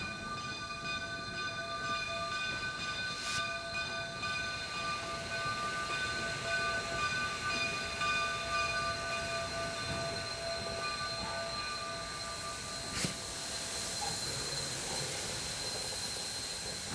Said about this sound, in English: 484 coming up to the double spouted water tank. The engineer's gonna spot the locomotive right over the spout.